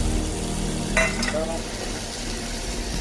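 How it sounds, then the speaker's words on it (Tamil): Mutton stirred with a spoon into sautéed onions and tomatoes in a pan, giving a soft continuous sizzle with a couple of brief metallic scrapes. "மட்டனை சேர்த்து ஒரு ரெண்டு கலர் கிளறிக்கலாம்."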